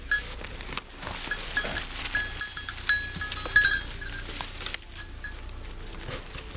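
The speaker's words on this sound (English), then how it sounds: "My goats are down here." Goats bleat here and there outdoors, moderately close, over a steady background hiss with light pattering and occasional clinks.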